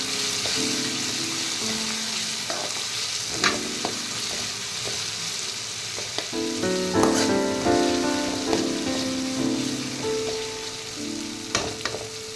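Onions and spices sautéing in a pan for a fish curry, a steady close sizzle and frying crackle with occasional stirring scrapes and clinks running throughout.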